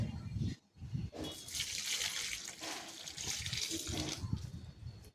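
Water splashing and pouring steadily onto a rooftop garden, a broad hiss with a brief pause near the start, fairly close and with no voices.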